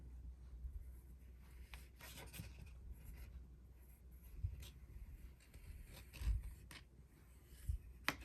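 A pencil scratches and rubs quietly across a file folder being altered for a junk journal, in short strokes with light taps and handling noises between them, close and faint.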